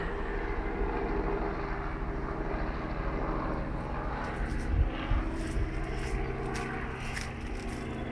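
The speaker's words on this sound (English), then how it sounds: "There's a helicopter." A helicopter flies overhead, a steady mechanical engine drone humming continuously with a low rumbling tone and faint scraping noises near the middle.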